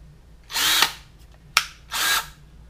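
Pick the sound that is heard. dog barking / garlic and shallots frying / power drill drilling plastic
power drill drilling plastic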